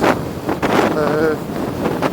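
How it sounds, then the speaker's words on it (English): Loud, steady wind buffets the microphone with a low rumble and gusty surges throughout, recorded while riding a Royal Alloy TG350 scooter on a motorway. "It's a bit windy, as you can probably hear. It's very windy."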